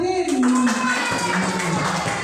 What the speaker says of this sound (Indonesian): Tepuk tangan untuk Farid